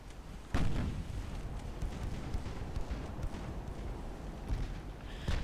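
Naval big-gun fire from warships in the Ultimate Admiral Dreadnoughts game, fighting torpedo boats: two sharp booms, one near the start and one at the end, over a steady rumbling battle background.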